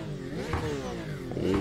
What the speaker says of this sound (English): Wonderful, wonderful sounding engine. Listen to those backfires.